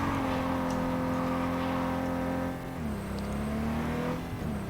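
A car drives in the video game Cyberpunk 2077, its engine a steady loud drone that dips in pitch midway as the revs change, with faint game sounds behind and no talking.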